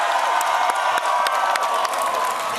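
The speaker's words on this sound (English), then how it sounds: "Give yourselves a round of applause." A large crowd at a college football broadcast claps, cheers and whoops together, a loud steady roar with sharp claps and shouts popping out, no talking over it.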